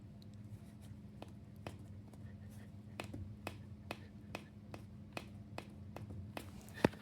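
A Sole E95 elliptical's foot pad makes faint sticky ticks, like quiet snaps, repeating at a fairly even pace of about two per second. They sit over a low steady hum of the machine, with no talking.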